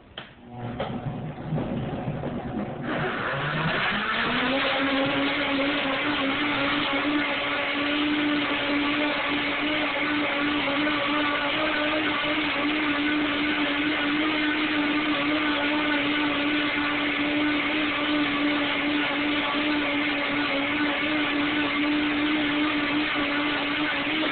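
A Vitamix Professional Series 300 blender motor spins up within a few seconds and then roars at a loud, steady high pitch, running continuously without pause, blending a kale shake.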